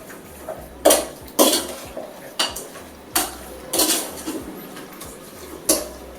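Chicken with turmeric and green chillies is mixed in a pot, with a series of sharp metallic clanks and scrapes from a spoon against the vessel, irregular and close, with no speech.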